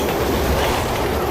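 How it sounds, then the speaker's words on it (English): A train pulls in within a Resident Evil video game, loud clattering rails and rolling wheels filling a short, dense burst. "Oh, there it is. Train's coming!"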